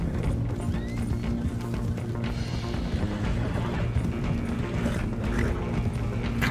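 Several horses gallop together in an open-world Western game, with continuous dense hoofbeats and rumbling movement at steady volume, with no talk.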